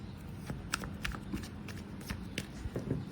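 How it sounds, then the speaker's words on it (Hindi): Tarot cards being shuffled by hand, a steady run of soft riffling slaps and flicks, close and fairly quiet, with no talking. "सो मैं 4 कार्ड्स निकालूंगी, सॉरी 5 कार्ड्स निकालूंगी।"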